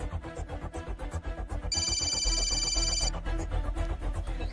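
A telephone rings in a Hindi film, its steady electronic tone heard for about a second and a half over a dense, continuous film soundtrack with a heavy low rumble.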